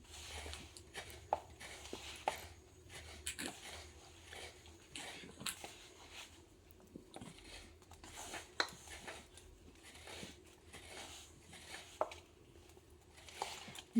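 Rice flour dough being kneaded by hand with water added little by little: soft, faint squishing and patting sounds repeating at an uneven pace, close by, with no voices.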